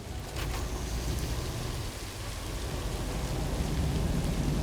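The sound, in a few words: rain in video game Satisfactory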